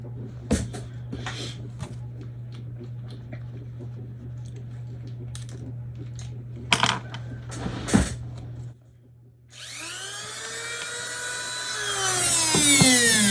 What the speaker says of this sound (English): I got a flap wheel sander in there right now.